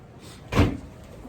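A single wooden drawer or cupboard slides and knocks shut, one brief muffled thud in a quiet room.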